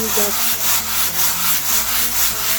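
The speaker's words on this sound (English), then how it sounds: "you can sand with it" Sandpaper rubbing steadily back and forth over a wooden bread board, a close, loud and continuous scratchy hiss in even strokes with no talking.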